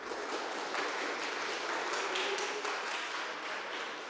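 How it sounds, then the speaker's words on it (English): An audience at a TouchDesigner roundtable gives a presenter a round of applause, a steady wash of many hands clapping that holds evenly at moderate volume for several seconds. "So please give a round of applause for Mr."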